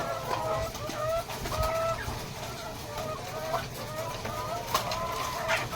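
Laying hens and breeder chickens cluck steadily at feeding time in a poultry house, a dense overlapping chorus of close and distant clucks with soft background rustle.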